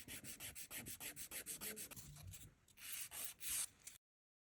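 Nail file shaping a gel nail extension into a ballerina form, a close run of quick regular rasping strokes, slowing and growing louder toward the end before it cuts off.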